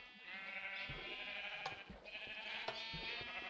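Baby sheep in Minecraft bleating repeatedly, short wavering cries in an uneven rhythm, fairly close and clear with no talk over them.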